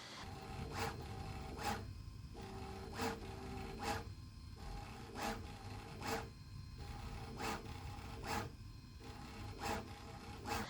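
A Bambu Lab A1 mini 3D printer at work, its motors giving a steady mechanical whir broken by regular rasping, scraping strokes about once a second, close and fairly quiet.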